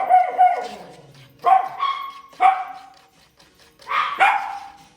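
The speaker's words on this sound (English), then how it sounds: "Dogs are gonna be barking at that you guys are gonna hear this whole entire video." Dogs bark indoors during home baking, with several loud, close barks in bursts separated by short pauses, some ending in a whining yip.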